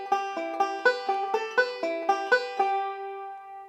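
A banjo picks a quick two-measure Scruggs-style roll in the Sally Goodin position, bright plucked notes in an even rolling rhythm that ring out and fade at the end, played alone and close.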